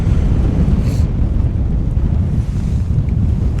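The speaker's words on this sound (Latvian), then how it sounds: "Atvainojos par to, kad baigi pūš, domāju, kamerā baigi vēl varētu dzirdēt." Strong outdoor wind buffeting the microphone on an open frozen lake during winter ice fishing, a loud continuous low rumble throughout with no talk.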